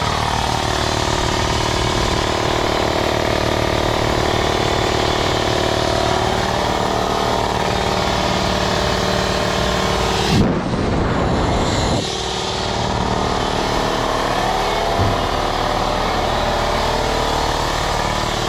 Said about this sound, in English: So it plugs right into the compressor. Pretty loud in the garage if you can't hear me.